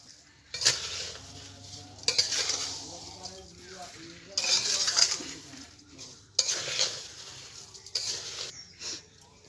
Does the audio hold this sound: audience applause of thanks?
no